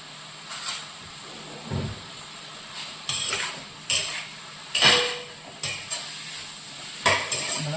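Onions being sautéed for a duck roast: a spatula scrapes and stirs through the pan in repeated loud strokes with metallic clinks, over a low sizzle in between, close and without talk.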